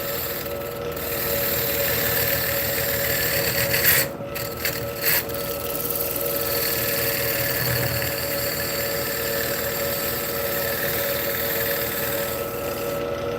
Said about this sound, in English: it's meant for beveling on the insides of bowls, undercuts, stuff like that